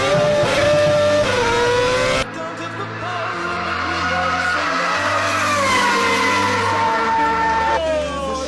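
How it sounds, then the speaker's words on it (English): Formula One race cars overtaking during a race, engines howling loud and close with rising and falling pitch, a car note sweeping past and shifting, under a dense blend of mechanical roar with no talk. "Kobayashi had passed Perez. Now Ricciardo overtook his teammate"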